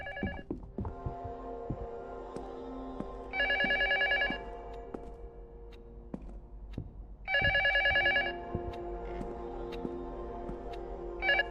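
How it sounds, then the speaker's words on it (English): A telephone bell rings in the video game Luto, two loud bursts about four seconds apart over a low throbbing, heartbeat-like ambience with scattered thumps. "The phone keeps ringing."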